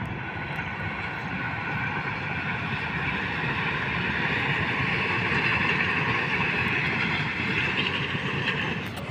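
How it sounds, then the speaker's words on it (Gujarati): A train passes on a railway track beside a road in open salt-flat country, a loud, steady rumble with rolling roar holding for the whole stretch, no voices over it. "કેટલો અવાજ કરે ટ્રેન"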